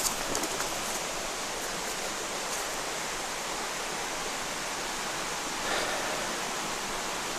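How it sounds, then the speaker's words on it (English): A mountain stream at a hiking trail water crossing on the way to Mt Sterling and Pretty Hollow Gap, running during a dry spell, gives a steady, fairly soft rushing wash with no voices. "I'm guessing this is fourth water crossing."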